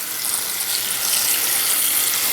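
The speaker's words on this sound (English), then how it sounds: "So I'm going to turn on the water." Tap water runs in a steady, continuous rush into a pot of chicken and colorful vegetables for home-cooked dog food, close and alone with no talk.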